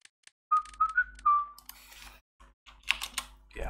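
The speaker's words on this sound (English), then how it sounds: "whistling on stream is probably a bad idea" A person whistles a few short, bright notes, the last one drawn out and gliding, close and fairly clear, followed by scattered clicks and rustling noises.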